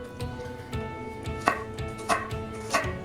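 Knife chopping crushed garlic on a cutting board: steady, close rhythmic taps, roughly two per second, with a few sharper, louder strikes and no talking.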